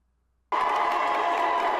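A crowd inside the Tennessee legislature breaks into loud, sustained cheering and applause after a moment of quiet, a dense continuous roar of many voices.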